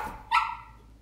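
A dog gives one short, sharp bark indoors, close and fairly loud, followed by a fading ring.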